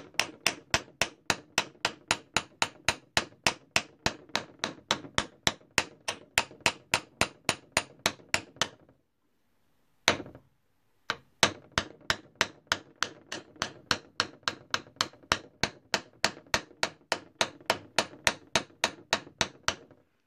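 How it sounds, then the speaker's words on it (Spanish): Steady, rapid hammer strikes ring out on a wire ring atop a steel block, dozens of sharp evenly spaced blows with a brief pause midway before the pounding resumes. "colocamos nuestra pieza y vamos a martillar con cuidado"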